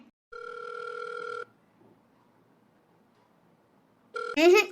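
An indoor telephone rings unanswered: one long electronic ring tone, then a few seconds of near silence, then another ring cut short by a brief burst of noise.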